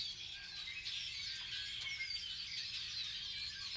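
Several birds chirp and call outdoors, with quick high tweets and whistled notes overlapping in a steady, moderately faint chorus and no voices present.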